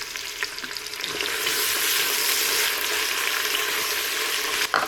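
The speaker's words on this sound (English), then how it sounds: "I'm going to go in with 1 large sliced onion" One large sliced onion sizzles loudly in a hot pan over raised heat, a dense steady crackle with a few scrapes of stirring, and no talking.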